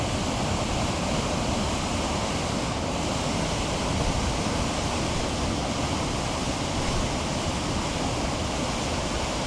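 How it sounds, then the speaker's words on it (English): Swollen river after Hurricane Helene rushing past the Old Mill in Pigeon Forge, a constant, dense roar of fast water, close and loud, unbroken for the whole stretch, with some wind noise and no voices. "So the water has definitely gotten higher and is much stronger at this point"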